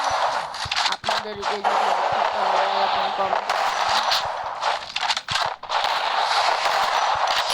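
Gunshots ring out in the video game Free Fire as a series of sharp, rapid cracks against steady game background noise, while someone talks over much of it.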